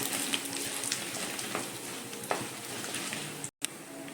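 Chana dal, urad dal, curry leaves, dried red chillies and roasted peanuts frying in hot oil for murmura upma give a soft, steady sizzle with faint crackles and stirring ticks, close by, with no talking.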